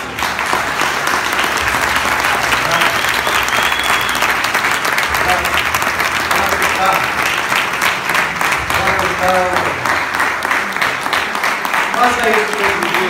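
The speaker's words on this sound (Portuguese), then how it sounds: "Uma salva de palmas." An audience applauds steadily and loudly, a dense wash of clapping with some voices faintly audible underneath.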